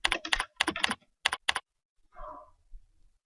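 Rapid bursts of clicking computer-keyboard keystrokes as a search is typed into a library catalog, close and crisp, followed by a brief pause and a softer shuffle.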